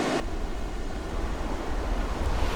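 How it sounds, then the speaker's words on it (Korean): Pacific Ocean surf breaking and rolling onto a beach at Ostional on Costa Rica's west coast, a loud, steady roar of waves with wind noise, no voices. "이곳의 해변은 태평양으로부터 끊임없이 밀려오는 파도를 온몸으로 받아냅니다."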